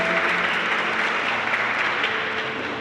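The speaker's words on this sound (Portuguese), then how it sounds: "pode aplaudir o Senhor" A church congregation applauds during a Pentecost sermon, a steady wash of many hands clapping that fills the room at even loudness from start to end.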